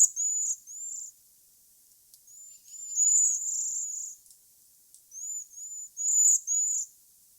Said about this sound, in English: if you hear this sound overhead, just quickly look up, and if you see a flock, those are these cedar waxwings